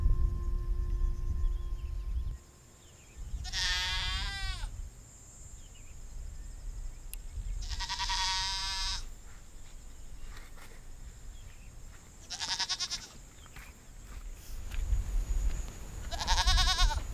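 A lost goat with no collar or bell bleats four times in wavering, quavering calls about four seconds apart, fairly close and loud, over a low outdoor rumble with faint insect chirring.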